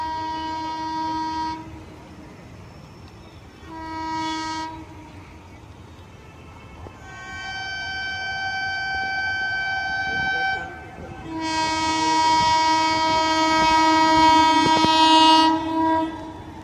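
A train hauled by a WAP-4 electric locomotive passes while its horn sounds in repeated long blasts, short at first and then sustained and louder near the end, over rumbling rail noise.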